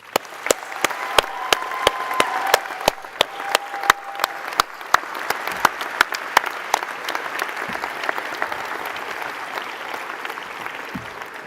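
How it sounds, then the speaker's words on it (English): A graduation ceremony audience claps in a sustained round of applause, with sharp individual claps standing out near the front over a broad, even wash of hands that fades slightly toward the end. "So let's give them a round of applause."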